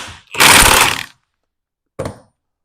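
A tool removes the crank pulley from a Classic Mini engine in two loud, close mechanical bursts: a longer rattle of about half a second, then a short one after a pause.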